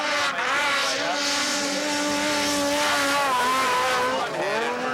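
A racing snowmobile engine with strong bottom-end power screams on a hillclimb run, a loud continuous high-revving whine with shifting pitch, heard from fairly near.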